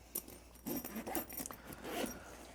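The zipper on a compartment of a Nomatic 30L travel bag, which has a lock hole on its tabs, is pulled in several short, scratchy strokes, close and fairly quiet.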